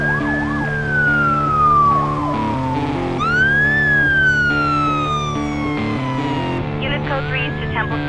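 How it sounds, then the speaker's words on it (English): A police car siren in a farming video game, a loud close wailing tone that sweeps up and down repeatedly over a low engine drone, with a second siren pattern joining briefly. "Is that a police siren?"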